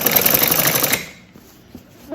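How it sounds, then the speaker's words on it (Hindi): A sewing machine stitches a kurti in a fast, close mechanical rattle for about a second, then stops, leaving faint room noise and a soft click. "एक सिलाई यहाँ पे अंदर की साइड यूँ लगाएंगे, जिससे फिनिशिंग बहुत अच्छी आती है।"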